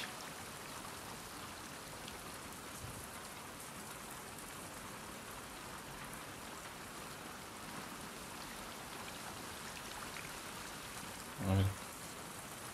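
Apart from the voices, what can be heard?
rain falling in the video game The Last of Us Part 2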